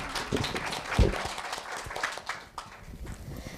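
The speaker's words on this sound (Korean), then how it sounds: "박수 부탁드립니다" An audience at a Korea University middle school speaking festival claps in a short, dense burst that swells near the start and then thins into softer, patchy clapping and shuffling.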